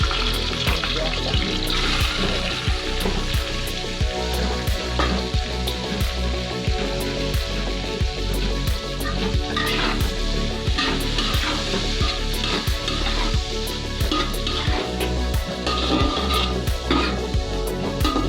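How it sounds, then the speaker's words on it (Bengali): Onions fry over a high gas flame in a pan with whole cinnamon, cloves and cardamom, giving a loud, constant sizzle broken by frequent scraping and stirring clicks. "পেঁয়াজটা যখন এরকম মোটামুটি ভাজা হয়ে যাবে"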